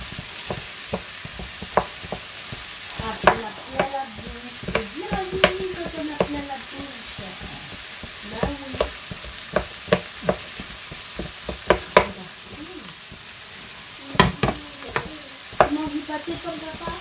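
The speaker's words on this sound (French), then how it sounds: "je vais le couper directement dans la poêle" Corned beef is cut and fried in a pan, giving a low background sizzle broken by repeated sharp taps and scrapes of a utensil against the pan, close and irregular.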